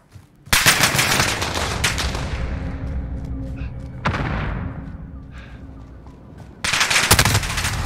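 Call of Duty gunfight: bursts of rapid automatic gunfire in three loud volleys, separated by decaying echoes and quieter gaps.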